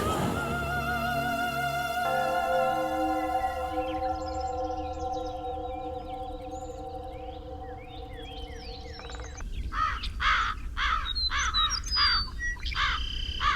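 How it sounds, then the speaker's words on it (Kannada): Crows caw in a loud, repeated burst of harsh calls close by, coming in after a stretch of sustained musical tones and some lighter chirping. "ಏನಂತ ಗೊತ್ತಿಲ್ಲ, ಕಾಗೆ ಬೆಳಿಗ್ಗೆಯಿಂದ ಕಿರಿಸ್ತಾನೆ ಇದೆಯಲ್ಲ"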